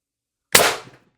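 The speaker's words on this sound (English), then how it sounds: "shot 5, 800 psi, high pressure air, 16-inch barrel, 4-gram ammo" A Beeman BP50 carbine air rifle with a 16-inch barrel fires a single shot on 800 psi high-pressure air, a sharp, close crack that fades quickly after a moment of silence.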